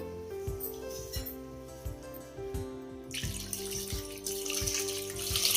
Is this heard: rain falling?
no